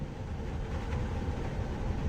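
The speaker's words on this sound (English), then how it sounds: "I love the monorail on this." Low, steady rumble of a monorail train gliding along its track in the video game Jurassic World Evolution 2, a continuous broadband hum with no breaks and no voices.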